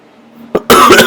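A sharp cough from a sick person after a quiet moment, followed by a louder, longer burst of harsh coughing close to the mic.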